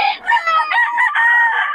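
A Sweater Gilmore rooster, a double-banded gamecock, crows once loudly and close by, giving a single sustained, wavering call.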